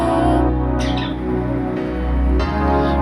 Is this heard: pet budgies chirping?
yes